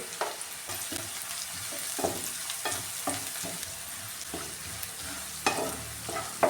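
Onions and koorkka (Chinese potato) sautéing with salt in a pan, a close steady sizzle broken by repeated scraping stirs of a spatula, with no talk.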